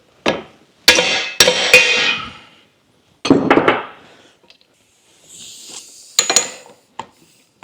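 Hammer taps on the yoke of a Scout front axle during assembly, a few sharp metallic knocks in quick clusters with pauses between, close and fairly loud, alone without talk.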